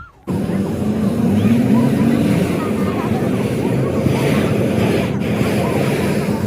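A steady, loud roar of a hot air balloon's gas burner runs throughout, broad and continuous with a brief dip near the end, at Liwa, Abu Dhabi.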